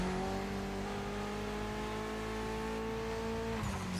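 Car engine in The Crew Motorfest racing game, a steady sustained drone with held harmonic tones throughout, loud and constant with a slight shift in pitch near the end.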